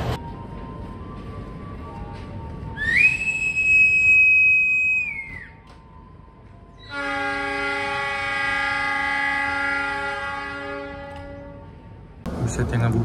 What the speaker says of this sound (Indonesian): Saya sudah mau berangkat lagi kereta api Gajayana dari stasiun Tulung Agung.